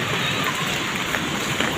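Rain falling in Silago during a typhoon, a steady dense hiss of drops close by, continuous and fairly loud across the short stretch.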